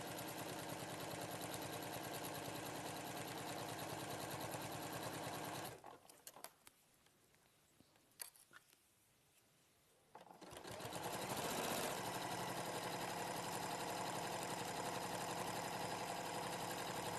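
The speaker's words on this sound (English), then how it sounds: "Lower it down, and then you want to sew from there. And we'll sew all the way down." A sewing machine stitches a quilt in a continuous fast rattling whir, pauses for a few seconds with faint handling noises, then resumes its steady stitching to the end.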